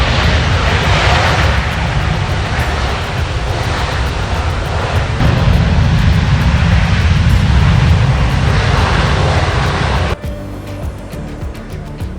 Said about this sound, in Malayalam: പാരീസിൽ നിന്നും വരുന്ന എയർ ഫ്രാൻസ് വിമാനമാണ് ഈ കാണുന്നത്.